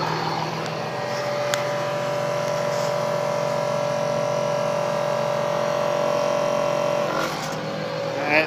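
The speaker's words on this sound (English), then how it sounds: "this is the truck idling right now, right off the bat" A 2006 Cummins 5.9 diesel pickup engine idles steadily on filtered waste oil, a constant low rumble with a faint whine, close and unbroken until a brief shift near the end.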